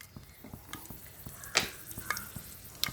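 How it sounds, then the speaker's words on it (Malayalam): Quiet, scattered pops and crackles of mustard seeds in hot coconut oil, with a few sharper snaps standing out against a faint sizzle. "കടുക് പൊട്ടുന്നുണ്ട്."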